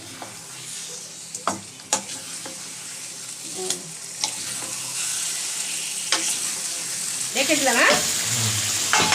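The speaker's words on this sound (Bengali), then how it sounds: "ম্যারিনেট করা মাংসটা দিল, পরে মশলা করবে। এবার ভালো করে নেড়ে দে।" Marinated meat stirred and fried in a home kitchen pan, with a steady sizzle, scraping stirs and occasional utensil knocks close by, and brief talk in the background.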